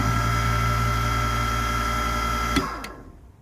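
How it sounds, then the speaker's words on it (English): The motor of a Katoku KDC-150s shears sharpening machine runs loud and steady up close for a couple of seconds, then cuts off with a click and quickly spins down to near silence. "Again, it's a very strong motor."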